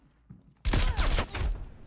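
Gunfire from the CARV.2 tactical rifle in Black Ops Cold War starts abruptly after a quiet opening, with a loud, close burst of rapid shots rolling on densely for over a second.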